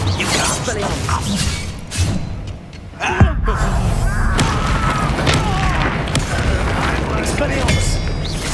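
A Confringo spell explodes in the game Hogwarts Legacy with one sharp boom amid ongoing combat whooshes and mechanical clatter, while voices call out loudly over the action.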